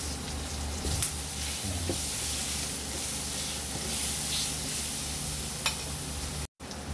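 Onions frying in a pan for chaofan, a steady close sizzle with occasional stirring scrapes and no talking.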